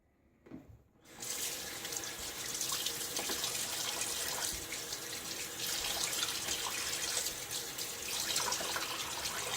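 Tap water runs steadily into a sink while a razor is rinsed between shaving passes, a close, continuous splashing hiss that starts after a second of quiet and carries on without talk.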